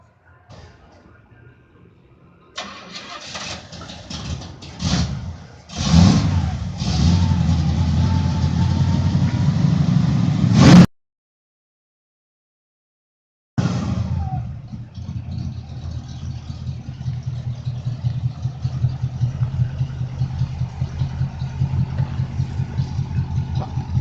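A 1967 Pontiac Lemans engine runs loud and steady as the car rolls over a brake fluid bottle, with a brief drop to silence midway before the idling rumble resumes and continues to the end.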